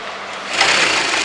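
A sewing machine stitching trim onto the wrong side of fabric at the margin, a brief steady whirring motor that rises slightly in pitch and loudness.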